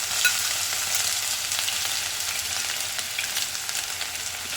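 Bay leaf, dried chillies and ginger-garlic paste sizzling in hot ghee, a steady close hiss of frying with faint stirring crackles throughout.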